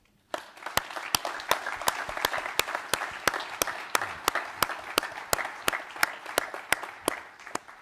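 Applause from an audience at a leadership summit panel forum, a steady round of clapping with sharp individual claps standing out at a regular beat, starting abruptly and sustained throughout.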